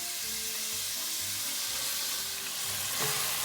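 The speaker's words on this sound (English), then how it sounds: "And it is time to add the sauce." Stir-fry sauce sizzling in a hot pan for a Spanish-style stir fry, a steady loud hiss of frying with light stirring scrapes, continuous throughout with no voices.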